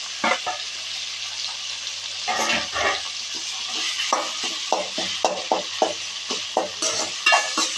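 Tomatoes sautéing in a hot pan for an okra gravy, a steady close sizzle with repeated stirring scrapes and clatters throughout.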